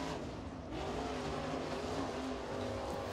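A crate-class race car roars steadily around the track during qualifying at Crossville, a loud continuous engine drone with faint tire noise and no voices.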